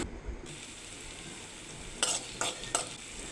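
Chopped shallots frying in oil for cauliflower thoran, a soft steady sizzle that turns into three sharp crackling bursts, as if being stirred or spattering, close by.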